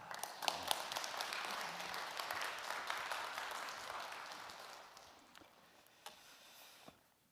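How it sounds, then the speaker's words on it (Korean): A church congregation at a Korean church's anniversary service applauds warmly in welcome. The dense clapping is sustained at first, then thins and fades out, with a few last scattered claps. "큰 격려와 따뜻한 박수로 맞이하겠습니다"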